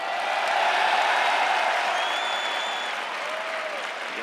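An audience at a naval academy lecture applauds in a smooth, continuous roar of many hands, with faint whistle-like tones drifting over the clapping.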